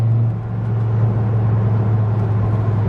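Dodge Viper pulling hard in second gear with its wheels spinning, a loud, steady low engine drone and rumble held throughout, close and continuous with no talk over it.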